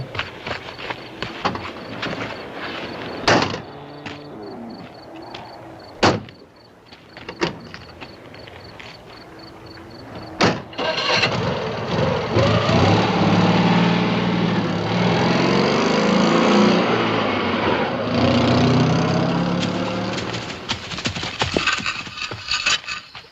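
A car door clunks and thumps, then after a pause a car engine starts and rises into a sustained, loud running rumble as the car drives off.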